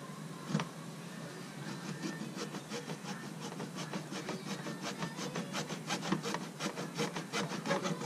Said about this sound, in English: Good old hacksaw.